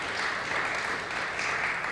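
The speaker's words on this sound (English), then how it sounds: "It's okay, you can clap." Audience at a video presentation and panel on sex trafficking claps after a documentary screening: a dense, steady wash of many hands clapping at once, even in loudness throughout, with no voices on top.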